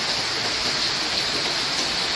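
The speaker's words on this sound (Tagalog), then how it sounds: "Ang lakas ng tulo." Heavy water leaking indoors in an island home, a steady dense wash of falling water and spatter, loud and close, continuous throughout with no voices.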